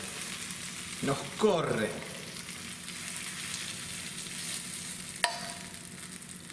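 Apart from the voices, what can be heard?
onions frying golden in a pan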